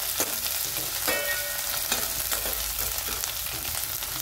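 Garlic sautés in a hot pan for green chickpea leaf bhaji, a loud continuous sizzle broken by occasional scrapes and stirring knocks, close up with no voices.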